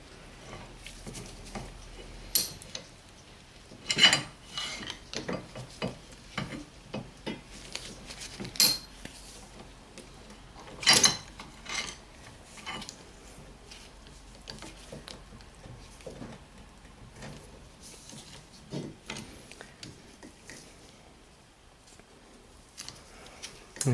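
On a 2007 Mini One, a rear brake caliper piston is wound back in with a tool, giving sparse, close metallic clicks, ticks and scrapes at irregular intervals over a quiet background.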